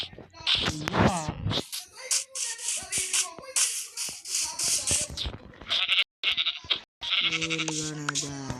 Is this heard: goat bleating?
yes